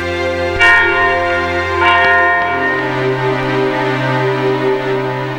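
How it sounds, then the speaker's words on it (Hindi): A bell is struck twice in close succession, each strike followed by a loud, resonant ringing tone that hangs and slowly fades. "पर ये घंटी इतनी जानी पहचानी से क्यों है"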